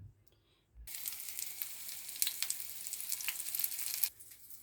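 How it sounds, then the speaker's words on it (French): Batter fritters frying in a pan, a steady bright sizzle that starts abruptly after a moment of near silence, crackling loud and close for several seconds before cutting off. "Donc la pâte est là et on va commencer à les frire."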